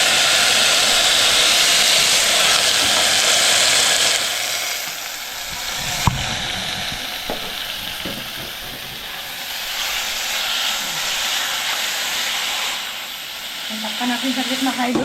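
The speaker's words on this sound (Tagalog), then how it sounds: "Isalog na natin ang ating mga isdahan." Fish sizzles in a hot pan of oil during a home cook of freshly netted catch. A loud frying hiss comes first, then it settles to a lower bubbling crackle with a few clinks of a utensil.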